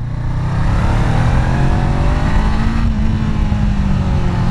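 A 2017 Honda CBR 500R motorcycle accelerates hard, its loud, close engine note holding steady and climbing gradually in pitch with no voices over it.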